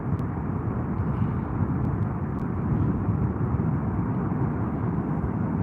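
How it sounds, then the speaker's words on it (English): Steady wind roaring near the erupting Kilauea volcano in Hawaii, a broad continuous rumbling rush buffeting loudly without pause, with a few faint clicks on top. "These clouds, the wind's picking up right now."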